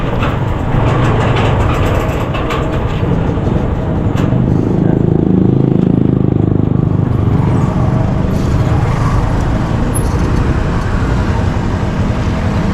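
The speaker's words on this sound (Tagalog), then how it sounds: "traffic na naman." Road traffic on a congested street near a road construction site, a dense continuous rumble of engines and passing vehicles, loud and close, with no talking.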